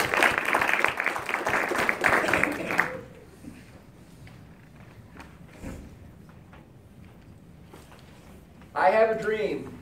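Audience applause welcoming speaker Gary Bisego, loud and dense clapping for about three seconds before cutting off into quiet room noise with scattered faint sounds.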